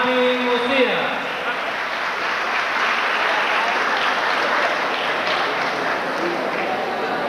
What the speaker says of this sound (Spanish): Fuerte el aplauso para Marvin Osías.